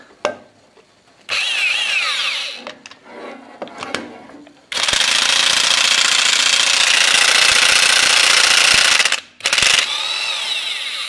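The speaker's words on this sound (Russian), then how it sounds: "Сейчас посмотрим, как будет крутить гайковерт." Pneumatic impact wrench loosening a nut on a stud of a YaMZ-238 engine: a few short mechanical bursts and clatters, then a long, loud, continuous hammering rattle, a brief break, and a second loud run.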